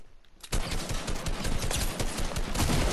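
Rapid gunfire from a weapon in Fortnite erupts after a short quiet moment, a loud, dense volley of shots that rattles on steadily without pause.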